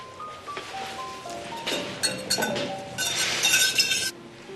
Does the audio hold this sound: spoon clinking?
yes